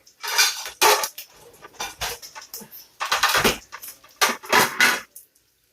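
Plates and cutlery clatter as supper is set out beside a pancake and bacon cook-up, several distinct clinks and scrapes in quick bursts, close and fairly loud with no talking.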